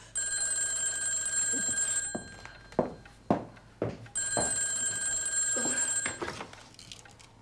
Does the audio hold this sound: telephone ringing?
yes